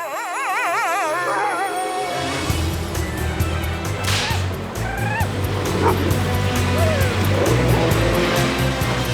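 Sled dogs in the snow let out loud, overlapping barks and yelps in a busy, continuous chorus. A warbling whistle-like tone sounds at the start.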